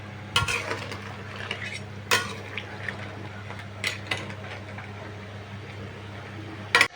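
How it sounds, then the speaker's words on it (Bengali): A spoon stirs food in a pot on the stove after the lid comes off, with soft scraping and a low sizzle underneath, punctuated by a few sharp clinks of metal against the pot, close and alone. "কিছুক্ষণ পর ঢাকনা খুলে একটু লাড়াচাড়া দিয়ে নিলাম"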